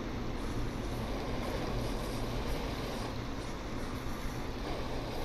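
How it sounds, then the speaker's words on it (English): A low steady rumbling cave ambience from a Bigfoot video game, a constant dull roar with no voices over it. "that's the sound of a cave"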